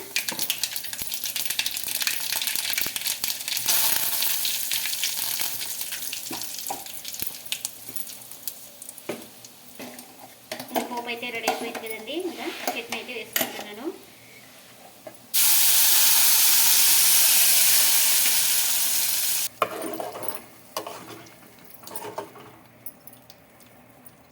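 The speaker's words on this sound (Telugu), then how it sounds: "చట్నీ కూడా ఇంకా పోపు పెట్టేస్తారా" Tempering spices for chutney sizzle and hiss in a hot pan, a crackling spray that rises and falls, with a loud steady burst of hissing near the end.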